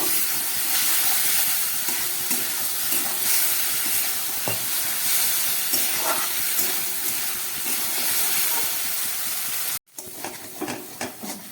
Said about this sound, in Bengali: একটু জল দিয়ে দিচ্ছি মশলাটাকে খুব ভালো করে কষাবার জন্য